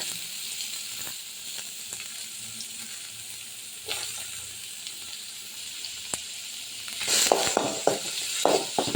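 Sliced onions fry in hot oil with mustard seeds for a lentil kootu, a continuous close sizzle with scattered sharp pops and crackles that grow louder and busier toward the end.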